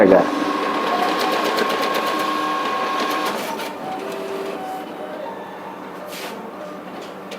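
Cash machine dispensing banknotes, a steady mechanical whirring and rapid rhythmic clatter of notes being counted out that eases after a few seconds, with talk over it.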